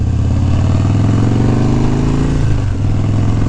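Harley-Davidson Dyna motorcycle on a morning ride, a steady close low rumbling engine droning continuously with a brief dip in pitch near the end.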